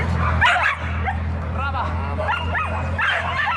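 Police penitentiary unit dogs at a Sicilian dog show bark and yip in short bursts against a busy background, with a voice talking throughout.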